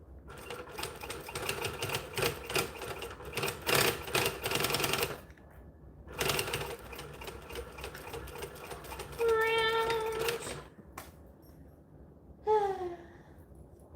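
Sewing machine stitching along the open edge of fabric, running in several short bursts of rapid mechanical clatter separated by pauses, fairly quiet, with brief vocal sounds in between.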